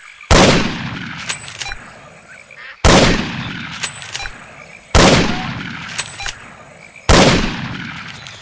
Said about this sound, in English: Remember to use your shotgun.